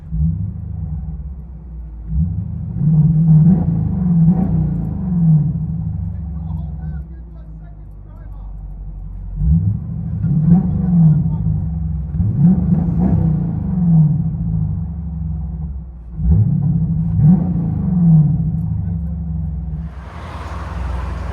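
2019 Dodge Durango R/T with a 5.7L HEMI V8 and Flowmaster Outlaw exhausts, revved three times in separate bursts, each a deep, loud rising growl that settles back to a rumbling idle between blips.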